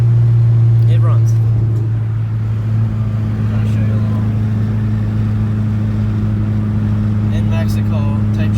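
A Chevrolet Cobalt SS engine idles with a steady low drone, heard from close by inside the car, while someone talks over it now and then.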